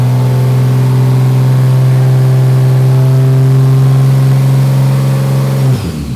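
A Holden Torana fitted with a 1JZ-GTE engine holds a loud, sustained high rev at full throttle in first gear, then drops off sharply near the end.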